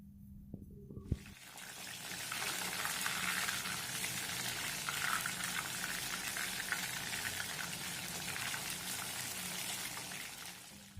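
Mushrooms frying in hot oil for Mushroom 65 give a steady, loud, bright sizzle that starts after a brief clatter and holds evenly to the end.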